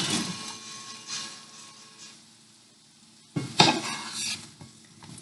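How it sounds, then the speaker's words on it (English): Yellow squash and zucchini cooking in a pan with fresh spinach and onions, giving a soft continuous sizzle, a quiet lull, then a sharp clatter and scraping of stirring near the end. "I'm going to go ahead and add in the yellow squash."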